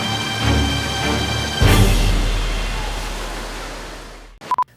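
Rolling waves in an indoor wave pool make a continuous rushing, surf-like roar that swells and then slowly eases, ending with a brief electronic beep.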